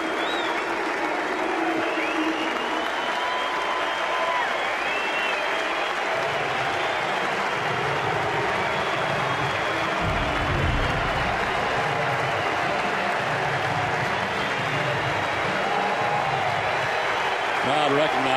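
A baseball crowd at Fenway Park applauding steadily, a broad, sustained wash of clapping and cheering that swells slightly midway, with a commentator's voice over it.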